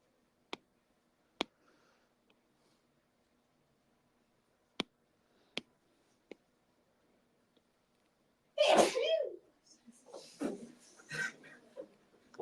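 A sneeze breaks out in a lecture room during a physics homework review, a single loud burst followed by a short second burst, after a few sharp clicks earlier on.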